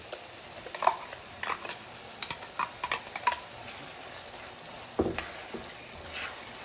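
Onion and tomato juice frying in a pan for tomato poha, a soft steady sizzle with intermittent stirring clicks and scrapes of a spoon against the pan, close and moderately quiet.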